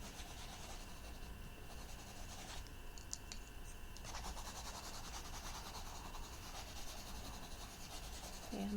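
Orange crayon coloring sand on paper, a continuous close waxy scratching and rubbing with steady back-and-forth strokes, quiet and alone.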